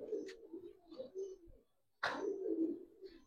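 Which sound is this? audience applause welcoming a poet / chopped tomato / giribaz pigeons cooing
giribaz pigeons cooing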